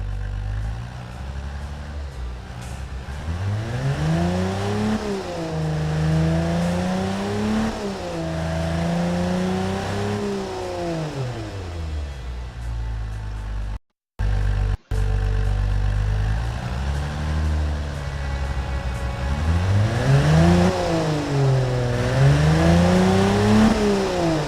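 A tuned 125-horsepower car engine with 191 pound-feet of torque revs loudly and repeatedly, its pitch climbing and falling in smooth sweeps and dropping out for a moment before surging again, with no one speaking.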